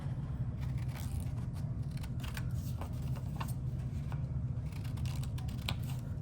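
Repeated short snips of scissors cutting through paper, close up, over a steady low hum.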